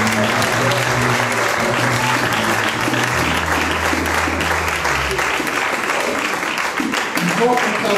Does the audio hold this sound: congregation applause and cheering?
yes